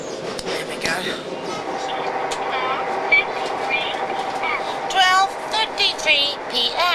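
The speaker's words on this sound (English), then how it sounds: "We're on our last train on our way to London, and we even made it to the early train." A passenger train runs along the rails on the way to London, with a continuous rumble and rattle, squealing metallic tones toward the end, and people talking over the noise.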